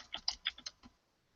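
Quick bursts of typing on a computer keyboard, about six distinct keystroke clusters in under a second, close and crisp, then silence.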